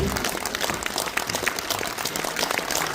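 Dense, steady applause from a standing audience at a Lions Club award ceremony, continuous and fairly loud throughout with no pauses.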